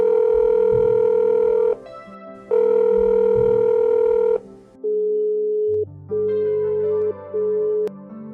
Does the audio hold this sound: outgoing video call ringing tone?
yes